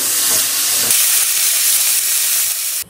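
Hilsa fish oil and bones fry in hot oil, giving a loud, steady hiss and sizzle that runs unbroken and stops abruptly at the end.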